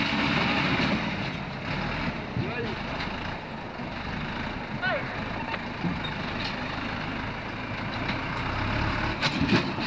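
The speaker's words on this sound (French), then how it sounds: "Le tracteur a passé" A tractor driving past outdoors, a steady rumbling engine drone that holds fairly constant at moderate distance, with faint clanks and occasional sharp ticks, no clear speech over it.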